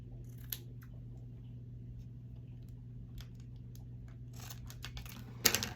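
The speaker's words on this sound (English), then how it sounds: "And then we're gonna cut our ribbon a little bit." Scissors cut ribbon during a paper-craft matchbook journal project. A few quiet snips come early, then a denser run of cutting sounds near the end, over a low steady hum.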